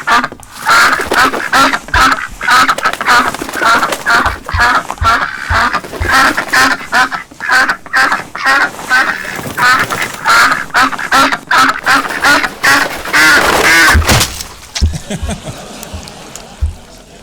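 Duck quacks played as sound alongside a duck dish served in a restaurant in High Barnet, a lively run of repeated calls under a busy, bright backdrop that cuts out near the end, leaving faint sparse sounds.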